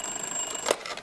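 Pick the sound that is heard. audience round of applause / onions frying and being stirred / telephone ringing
telephone ringing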